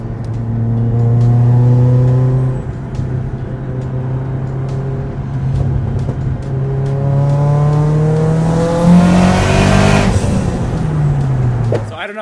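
A Mitsubishi Evo X with a Tomei exhaust and external wastegates revs up and down in a loud, sustained series of pulls, with a rushing burst near the end.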